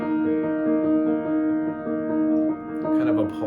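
A pulsing, repetitive left-hand piano accompaniment figure holds steady, sustained tones with a regular throb, played alone and fairly close.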